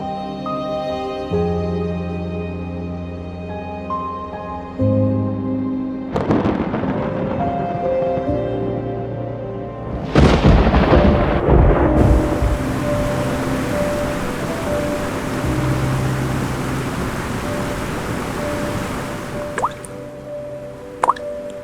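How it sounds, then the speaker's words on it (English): Rain falling over the Pantanal wetlands, with dense dripping and splattering drops that swell into a louder downpour midway, set under sustained musical tones, with only faint hints of thunder. "As the blessed rains fall, life here is reborn."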